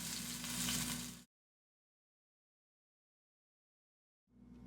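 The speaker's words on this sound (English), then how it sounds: "put your burger back on the frying pan" A burger patty sizzles loudly in a frying pan. The hiss cuts off abruptly after about a second, the clip falls silent, and the sizzle returns near the end.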